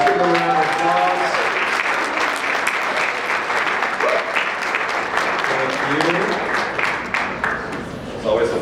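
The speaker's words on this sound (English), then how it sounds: "Just give them a round of applause." A ceremony audience applauds a proclamation at the Citadel Theatre, with dense, sustained clapping throughout and voices speaking over it at the start and end.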